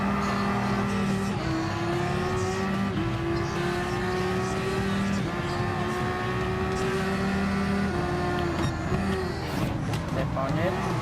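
The SRT Tomahawk GTS-R Gr.1 race car runs in Gran Turismo Sport with a loud, continuous high-revving engine drone. Pitch steps up through several gear shifts, and a voice talks over it.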